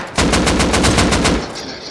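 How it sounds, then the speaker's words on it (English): Automatic AK rifle gunfire in a video game, a loud, close burst of about nine rapid shots at an even rhythm lasting just over a second, with nobody talking. "No, I just headshot him with AK."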